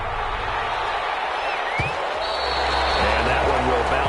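A large stadium crowd roars steadily before a Seattle Seahawks vs Minnesota Vikings NFL game, a loud continuous wash of cheering and noise with an announcer talking over it.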